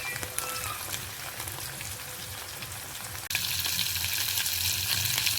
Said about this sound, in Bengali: মাছগুলো আমি তেলের মধ্যে দিয়ে দিয়েছি। এবার এটাকে আমি ভেজে নেব।